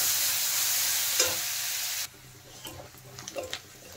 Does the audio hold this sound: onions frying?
yes